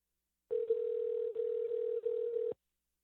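An unanswered phone call rings out as a steady electronic tone with two brief breaks, lasting about two seconds and then stopping, clean and moderately quiet.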